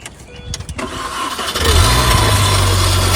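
A 2002 Mini Cooper's engine cranks and catches after ten years unused, faint rattling giving way to a loud steady idle right up close.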